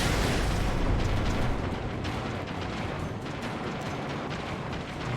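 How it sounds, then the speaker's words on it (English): Flashbang explosions in Alan Wake Remastered, a loud, sustained roar of overlapping blasts and rumbling bursts that gradually eases off. "Very good use of the flashbangs when lots of stuff like this starts flying around."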